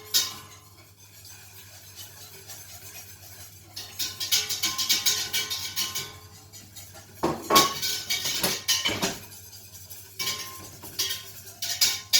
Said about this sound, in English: Make sure you stir as you add it in.